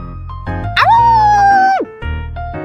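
A pet dog in the Love and Deepspace video game gives a long, rising, sustained voiced cry instead of a proper bark, with game music or ambience underneath.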